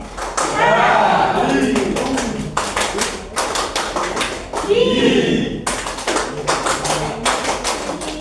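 Classroom clapping game in which participants clap in counted groups, sharp bursts of hand claps forming rhythmic clusters separated by short pauses, with voices speaking between and over the claps.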